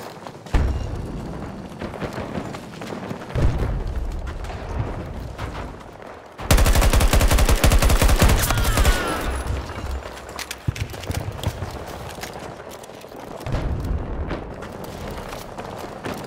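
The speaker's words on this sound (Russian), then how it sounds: "Бросаю гранату!" Thrown grenade going off in Battlefield 2042 capture-mode gameplay: a sudden loud blast midway through, amid ongoing gunfire and battle noise before and after.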